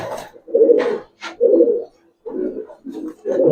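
Giribaz pigeons coo in a series of soft, low throaty phrases, close by and clear, with short gaps between calls and little else around.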